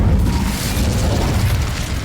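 An Incendio fire spell is cast in the Hogwarts Legacy game, a loud, continuous low booming roar with a crackling burst texture that holds steady for about two seconds.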